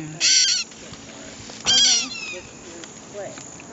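Small wild bird squawking while being fitted with a leg band at a birding festival: two loud, shrill bursts of harsh calls a second apart, then fainter chirps, with people talking quietly in between.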